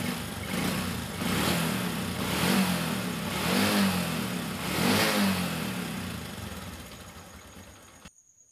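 A Honda Supra X 125 motorcycle engine idling roughly with an uneven, limping idle, a steady close mechanical chug that swells and dips in waves before cutting off abruptly near the end.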